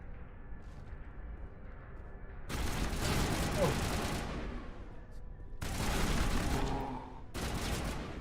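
Gunfire in Mass Effect: Legendary Edition comes as long, dense bursts of rapid shots, three loud volleys broken by quieter stretches of low background rumble.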